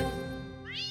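A cat gives a single short meow, close and clear, with a bright rising cry near the end, in an animated outdoor nature adventure scene.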